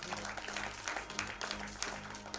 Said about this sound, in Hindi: ladies and gentlemen, जोरदार तालियां हो जाए please